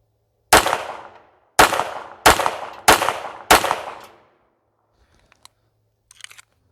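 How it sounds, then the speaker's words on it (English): Five sharp .22LR gunshots fired with Aguila Super Maximum ammunition, spaced about a second apart, each a loud crack with a short decaying tail, followed by faint clicks and small handling noises. "let's go 5 rounds with the Aguila Super Maximum."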